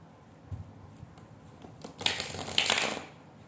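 A deck of tarot cards shuffled by hand, a quiet tap or two followed by a brisk riffling burst lasting about a second, close up and alone.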